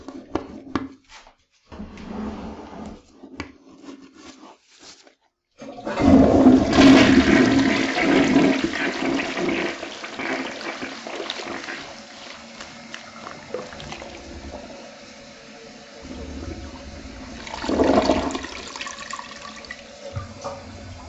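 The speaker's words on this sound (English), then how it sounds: "and I just flush." A toilet flushes loudly after cleaning with Zep toilet cleaner, a sudden rushing gush of water that drains and then gives way to refilling trickles and a later surge, with some handling clatter before it and no speech.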